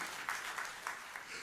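Faint, sparse applause from a church congregation during a New Year's Eve sermon, a few soft claps rising and falling over a quiet room.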